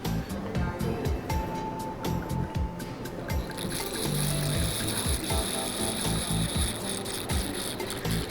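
Chilean wine poured through a wine aerator at a bar, making a steady, close bubbling gurgle, like coffee brewing, that runs without a break for the whole stretch.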